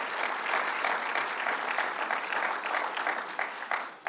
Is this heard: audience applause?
yes